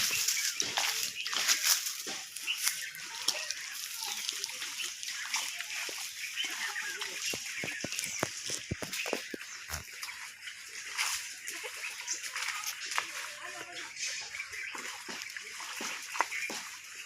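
Water splashing and spattering continuously, a hissing spray with irregular splatters, fairly close, with faint voices now and then.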